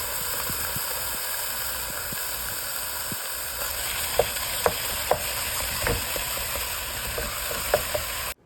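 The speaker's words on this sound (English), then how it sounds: "So now we're going to cook the ground beef." Ground beef cooks in a pan for homemade spaghetti sauce, a steady hiss and sizzle with a few sharp utensil taps and scrapes toward the end before it cuts off abruptly.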